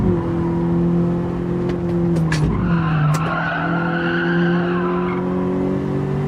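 A 1998 Honda Civic EK Type R in Gran Turismo 7 racing: loud, steady engine tone drops in pitch as tyres skid and squeal through a corner, then climbs again with further screeching from the tyres.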